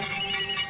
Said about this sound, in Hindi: Come on, Malika, pick up the phone.